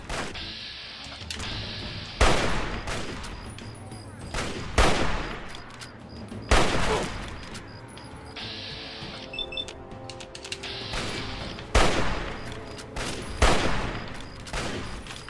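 Repeated gunfire in Fallout 3, loud sharp shots arriving in irregular bursts every second or two over a busy game soundscape, with rattling, clattering combat noise between the blasts.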